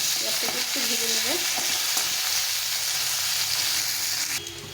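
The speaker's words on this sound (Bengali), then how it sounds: "পেঁয়াজটাকে একটু ভেজে নেবো।" Chopped onion chunks fry in oil in a pan, sizzling loudly and steadily up close while a utensil scrapes and stirs them in short strokes; no talking.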